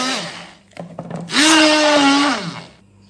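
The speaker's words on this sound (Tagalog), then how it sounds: "ilagay natin dito sa blender ang watermelon" An electric blender runs on watermelon, first with uneven churning and knocking, then rising into a loud, steady whirring whine for about a second before winding down.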